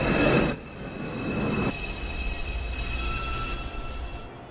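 NYC Subway 2 train pulling into Lincoln Center station, wheels squealing loudly on the rails with a steady rolling rumble through the whole clip, close up in the underground station.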